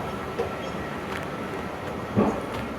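Steady rumble of an MRT train at Taman Equine station in Kuala Lumpur, a broad continuous roar with faint rail clatter and a brief louder swell near the end, no voices.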